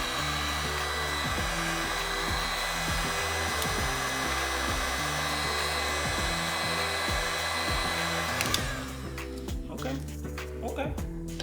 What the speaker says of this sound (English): So I'm gonna use my trusty heat gun and see if we can get anything to happen.